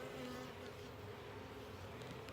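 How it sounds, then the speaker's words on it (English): Bees drone in a continuous, even buzz from an open hive during a live inspection, a close, steady hum with no talking over it. "Here's some bees."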